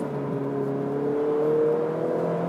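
A Ferrari 488 GTB engine pulls hard under steady acceleration, its harmonic note climbing smoothly through the revs, loud and continuous with no pause for a shift.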